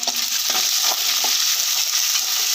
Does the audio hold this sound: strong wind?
no